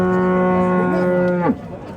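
A cow at the Shahidon livestock market gives one long, loud, close moo that holds steady, then bends downward in pitch and fades, with faint market background behind it.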